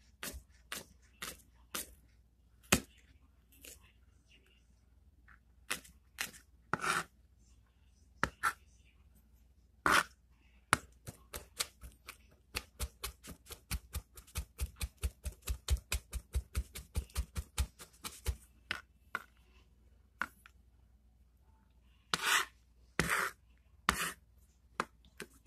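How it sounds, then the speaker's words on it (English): A knife chops garlic on a cutting board for breakfast burritos, sharp close taps that come in scattered bursts and then in a fast steady run of rapid chops, with no one talking. "And let's chop this up."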